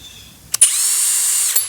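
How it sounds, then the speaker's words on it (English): A power drill whirs in reverse to back out a screw during a Ducati cycling cleat repair, starting after a click and holding a steady high whine for about a second before stopping, close and loud. "then you're going to put the drill in reverse"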